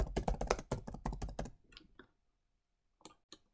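Rapid typing on a computer keyboard, close and crisp, in a quick burst of keystrokes that slows and then ends with a few isolated taps.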